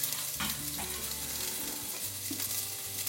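Shallot and garlic sautéing in a pan for mussels in beer, a steady close sizzle of frying with stirring scrapes over it and no talk.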